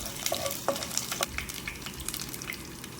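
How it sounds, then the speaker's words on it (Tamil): Food sizzles in a hot pan while a utensil stirs it, with curry leaves being sautéed for a potato fry, scattered crackles and pops at close range. "இது நல்லா வதக்கி கொடுங்க."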